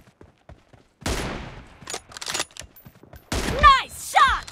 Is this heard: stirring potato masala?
no